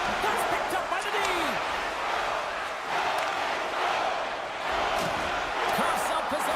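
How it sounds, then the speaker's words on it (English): Video game ice hockey crowd cheering and roaring steadily in an arena, with skate and puck clatter and a commentator talking over it. "the whole crowd is loving this"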